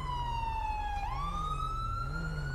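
A police car siren in a police video game wails continuously, its pitch sliding down then rising again, loud over a low engine rumble.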